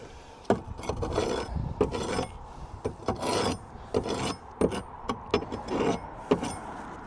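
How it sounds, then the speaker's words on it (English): A metal bar scrapes grit off a roof tile during a rooftop solar panel install, producing repeated rough rasping strokes in short irregular bursts, close and fairly loud. "Use your bar just to scrape down that."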